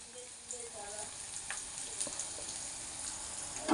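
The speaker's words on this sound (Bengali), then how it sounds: "এটা একটু ভেজে নিই, তারপরে দিয়ে দেবো বিলাতিটা" Spices and chili fry in a pan for pasta, producing a faint, steady sizzle with light crackles and small spattering pops, growing a bit louder at the end.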